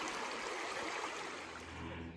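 A river near Indian River, Michigan flows steadily beside a bench on a nature trail, giving a continuous broad rushing wash heard close and fairly loud with no pauses.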